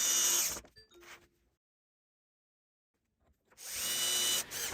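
A power drill bores into a wooden rail platform being prepared for M6 machine screws on a DIY rail hinge, with a loud whirring burst at the start, a brief pause, a short drill tone, then a long silence before the drill roars again.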